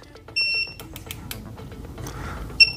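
OWON XDM1041 bench multimeter gives short high-pitched continuity beeps on stock test leads, one early and one near the end, separated by scratchy clicks and scraping from the probes.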